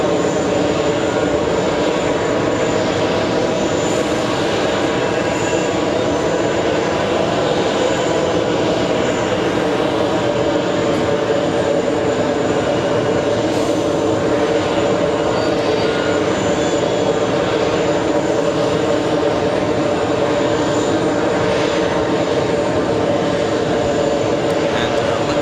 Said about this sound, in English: We have Delta 44 flying to Dublin. Traveling at 160 knots already. Rotates.